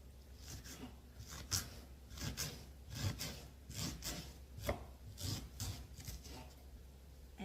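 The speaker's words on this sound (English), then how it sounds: "then I'm going to chop the onion" Half an onion being chopped with a knife on a cutting board at home, a quiet series of irregular rhythmic chops and scrapes repeating steadily throughout, with no talking.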